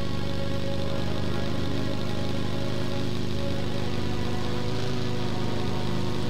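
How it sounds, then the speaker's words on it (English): Motorcycle engine in the video game PUBG, a continuous droning mid-range engine hum that holds steady and fairly loud without break, with no talk over it. "Motorcycle on our right."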